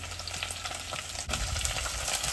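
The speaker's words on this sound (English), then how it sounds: "And you're going to put your garlic to sizzle there for about 2 to 3 minutes until golden brown" Garlic and capsicum frying in a pan, with a steady crackling sizzle and brief scraping stirs that grow slightly louder midway, close up with no talking.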